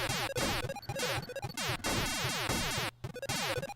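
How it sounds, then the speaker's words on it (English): Centipede arcade video game extra life sound: a loud, continuous run of rapid electronic chirping tones, repeating in quick rising and falling sweeps for several seconds with a brief gap near the end. "the good old extra life noise."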